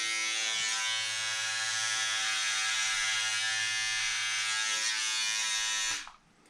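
Electric shaver fitted with a guard, steady close buzzing hum as it cuts hair for about six seconds, then cutting off abruptly, with no talking.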